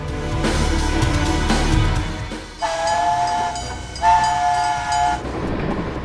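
Moving train rumbling loudly nearby, then two long horn blasts sound over the rolling noise before the clatter continues.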